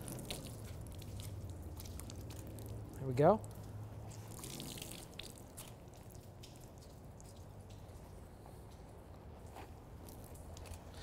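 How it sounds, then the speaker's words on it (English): A soaked car-drying chamois is wrung out, giving soft squishing and continuous trickling drips of water that peak briefly in a squeeze, while someone speaks a few words nearby. "Now I'm gonna wring out the chamois to show you exactly how much it holds."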